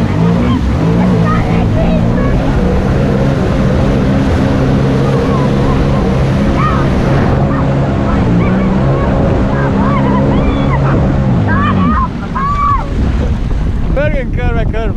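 A jet ski roars loudly across open water, its engine droning steadily with heavy wind buffeting and splashing, while voices shout and talk over it throughout.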